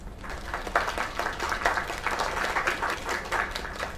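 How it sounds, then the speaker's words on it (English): Crowd applause in the video game Lake, a steady wash of many hands clapping for a singer, moderately loud and continuous with rhythmic surges and no talk over it. "Another round of applause."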